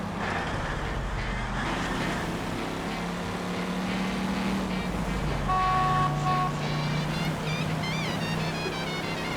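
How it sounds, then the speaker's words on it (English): Throaty car engine in L.A. Noire rumbles as a steady low drone, idling and revving with a brief tonal whine midway, playing alone without speech. "God, his car sounds so throaty"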